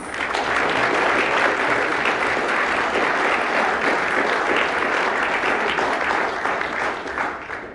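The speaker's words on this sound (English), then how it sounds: "Please give a round of applause." An audience at a sports panel session gives a sustained, loud round of applause, even and dense throughout before easing off slightly near the end, with no voices over it.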